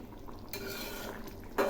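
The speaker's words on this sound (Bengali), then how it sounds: "এখন আমি মাছগুলো দিয়ে দিচ্ছি। আবারও একটু নেড়ে দিচ্ছি।" Singhi fish cooking in a pan, a close, steady frying hiss with a short burst of stirring and a metallic clink of the utensil near the end.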